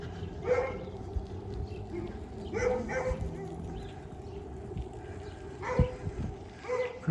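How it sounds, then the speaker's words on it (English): Dogs barking on a residential street in Regina during a walk, moderately close, in short separate bursts of a few barks spaced across the stretch. "More dogs letting me know that they know I'm here."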